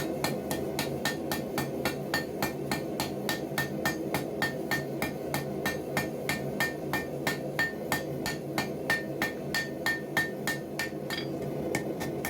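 Steady, evenly spaced hammer blows ring out on hot high carbon angle iron being forged into a Roman gladiator sword, about three strikes per second, sharp and close, with no voices.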